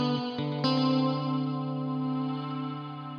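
Electric guitar chord played through a Fuzzrocious Afterlife V2 reverb pedal with the mix fully up, struck a few times and then left to ring in a lush, sustained wash of reverb. It is close and stands alone with no talking.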